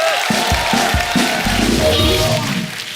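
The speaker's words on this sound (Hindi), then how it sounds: "शक्ति साहब के लिए एक बार जोरदार तालियां हो जाए।" Studio audience on an Indian TV comedy show breaking into loud applause and cheering, a dense crowd roar filling the whole stretch with some vocal shouts over it.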